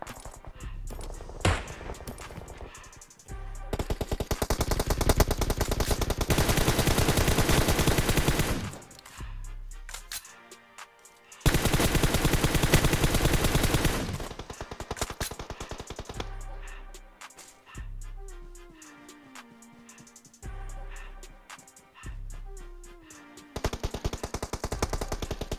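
Gunfire from PUBG Mobile on the Sanhok map comes in long sustained automatic bursts and shorter volleys, loud and close, with brief pauses and scattered single shots between the strings of fire.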